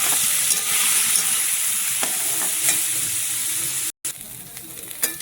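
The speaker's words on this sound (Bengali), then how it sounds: "ভালো করে সবজিটা ভেজে নিব।" Vegetables sizzle loudly in a pan with salt and turmeric for vegetable dal, a constant frying hiss with occasional scrapes of stirring and a brief dropout near the end.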